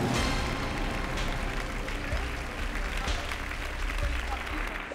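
Audience applause at the Miss France pageant, a dense wash of clapping from a large crowd, steady and moderately distant, with faint voices beneath.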